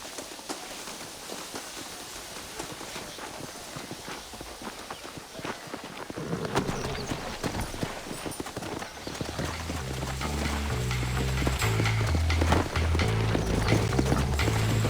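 Horses galloping in Red Dead Redemption, a dense rhythmic hoofbeat clatter that grows louder as music swells in beneath it.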